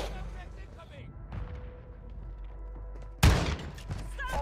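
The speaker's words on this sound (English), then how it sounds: "You are taking effective fire." Gunfire in the video game Call of Duty DMZ, a quiet stretch of distant shots broken by a sudden loud burst near the end, with game sounds and voices underneath.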